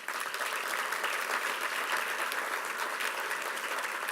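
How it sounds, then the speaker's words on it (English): Steady audience applause at a scholarship dinner fills the whole stretch, a dense even wash of many hands clapping at a constant level with no voices on top. "Should we give them another round of applause?"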